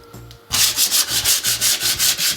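After a brief quiet moment, hand sanding on wood with sandpaper during a loft ladder installation begins: rhythmic back-and-forth scratchy strokes, about eight even passes, loud and close.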